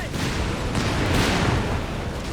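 Grenades and mortars explode during a Company of Heroes 3 multiplayer battle. Dense, continuous booms and rumbling blasts fill the short stretch, loud and close, with scattered gunfire mixed in.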